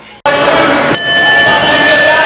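A wrestling ring bell rings once loudly and sharply with a bright sustained tone, over a noisy arena crowd.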